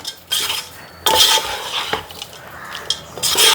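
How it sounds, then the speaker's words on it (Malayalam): Spoon stirring lemon rice in a pan over a low flame, with repeated loud scraping bursts and metallic clanks against the pan, close and with no talk. "നന്നായിട്ട് ഇളക്കണം."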